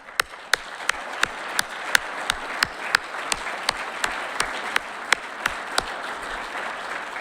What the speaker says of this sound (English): Let's give these Eagle Scouts a round of applause